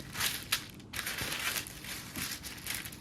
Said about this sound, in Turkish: Hamurumun üzerine gelecek şekilde bir tane daha yağlı kağıt koyuyorum.